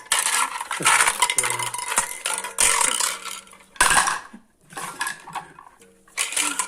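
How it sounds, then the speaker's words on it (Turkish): Food stirred with a utensil in a bowl during home cooking, clattering scrapes and clinks in uneven bursts separated by brief quiet gaps, close and fairly loud. "Güzelce karıştırıyoruz."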